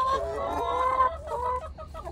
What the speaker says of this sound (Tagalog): Yan ang aking alagang manok.